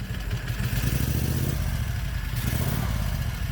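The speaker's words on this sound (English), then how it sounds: "Let me goose the throttle." Predator 670 cc air-cooled overhead-valve engine with a modified camshaft, loudly revving up and down as the throttle is blipped, a steady low rumble with rhythmic firing pulses throughout.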